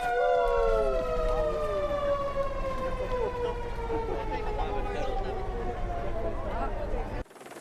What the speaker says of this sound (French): Il va y avoir un klaxon sur le camion de pompiers.